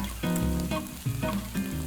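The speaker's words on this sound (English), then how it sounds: "you want that nice low sizzle" Onions sizzle steadily in a hot pan, with several soft clunking stirs breaking up the continuous crackle.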